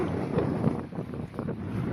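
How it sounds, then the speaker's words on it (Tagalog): Strong wind buffets the microphone in a steady, roaring rush, with a low rumble underneath and no voices, during a sea crossing to Alabat Island amid big waves. "Grabe yung hangin."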